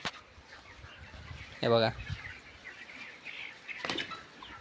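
Chickens in a poultry farm shed, a brief burst of wing flapping and scattered soft clucks nearby, with someone talking quietly between them.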